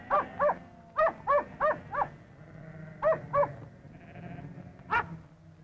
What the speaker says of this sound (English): By barking and even pushing the sheep, the dogs manage to guide them from the yard into the race